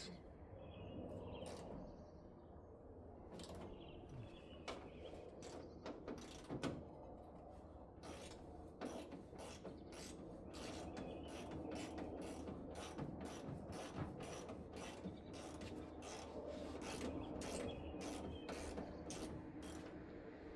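A ratchet loosens the nuts holding the lift gate on an old Scout, a long run of rapid clicking bursts, some quick and some drawn out, faint and close with no talk.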